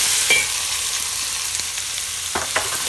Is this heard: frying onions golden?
yes